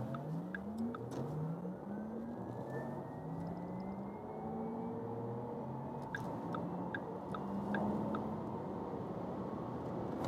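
A rear-wheel-drive Porsche Taycan electric car accelerates from about 30 km/h, a low, steady rumble of tyre and road noise with a faint electric whine rising in pitch, heard from inside the cabin.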